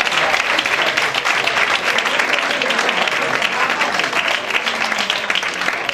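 Dense, continuous applause from an audience at a national cartoon cover band gathering, loud and even throughout with faint crowd voices mixed in.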